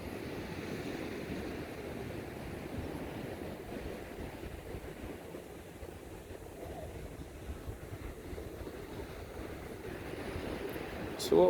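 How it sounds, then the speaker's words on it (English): Ocean surf washing onto the sand at Playa de Fanabe beach in Tenerife, a steady continuous roar of breaking waves heard up close throughout, with faint background music and no clear talk. "So you can hear the waves crashing."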